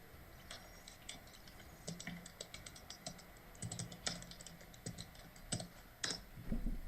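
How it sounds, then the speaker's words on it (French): Fast typing on a computer keyboard, rapid irregular clicks in bursts, close and fairly quiet, with no talk. "Qu'est-ce que tu tapes vite au clavier?"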